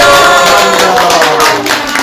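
Brief clapping from a couple of hosts in a small Korean podcast studio, loud and close, a quick patter of hand claps lasting about two seconds with no talk over it.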